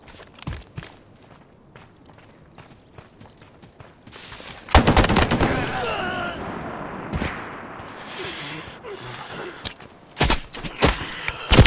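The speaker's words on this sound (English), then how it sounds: "I hear shots inside substation" Gunfire rings out in a shooter video game, with quiet footsteps and movement first, then a loud burst of rapid shots and echoing blasts, followed by scattered sharp reports.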